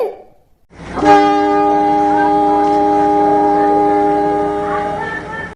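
A loud train horn blares close by and holds one steady tone for several seconds before trailing off.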